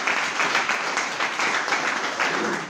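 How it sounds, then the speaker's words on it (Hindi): A crowd at an indoor event breaks into sustained applause, many hands clapping in a thick, even roar that holds at full strength from start to finish. "इनके लिए तालियां बजा।"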